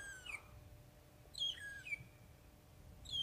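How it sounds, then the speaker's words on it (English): Magpie shrikes call in the African bush on a sunrise safari, giving short, high, whistled chirps in separate bursts a second or so apart over a low background rumble, moderately distant. "we can still hear the magpie shrikes making lots of noise"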